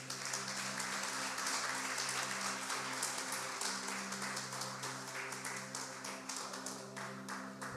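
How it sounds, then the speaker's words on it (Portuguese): Congregation in a church worship service applauding steadily throughout, a dense continuous wash of clapping with a sustained musical tone underneath, moderately distant. "Aplaudam o Senhor."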